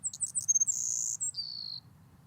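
A recorded songbird gives a few quick high cheeps, then a thin whistled note sliding into a longer buzzy trill, clear and fairly close over a low background rumble.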